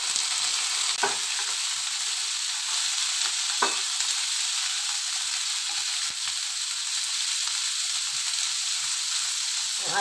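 Beef hits a pan of browned garlic for Filipino kare-kare, a steady close sizzle and hiss from frying, broken by a few sharp scrapes and clinks as it is stirred.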